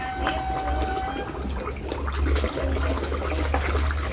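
Hungry carp thrashing and jumping over one another in a crowded pond at a floating restaurant in Solo, a loud continuous churn of splashing and sloshing water with a low rumbling undertone.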